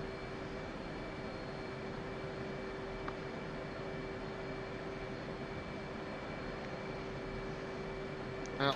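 Jet aircraft in a flight video game, a steady faint engine hum with constant tonal whine and broadband rush, unbroken for the whole stretch with no voices.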